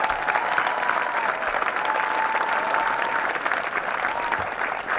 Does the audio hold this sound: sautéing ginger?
no